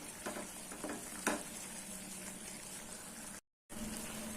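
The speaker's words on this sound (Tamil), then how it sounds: "இப்போ இது ஒரு மீடியம் ஃப்ளேமில் ஒரு 10 நிமிஷம் நல்லா கொதிக்கட்டும்." Coriander thokku paste bubbles and sizzles steadily in a pan on a medium flame, a soft continuous crackle with a few louder pops early on and a brief cut to silence near the end.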